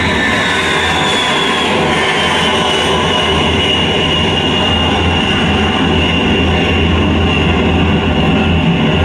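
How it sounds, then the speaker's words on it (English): Loud, steady roar of a B-52 bomber taking off from a runway, heard from close underneath on the runway, a dense continuous jet rumble with a whining high tone that fills the whole stretch. "So this is the B-52 taking off."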